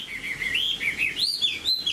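A Chinese hwamei songbird sings a continuous run of high, bright, warbling whistles, close and clear with little background noise.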